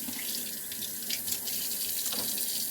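Water runs steadily from a tap into a sink while reusable Keurig coffee cups are washed, a close, continuous splashing hiss with no talking.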